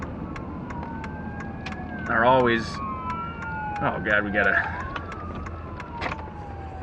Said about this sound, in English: an ambulance, another person in trouble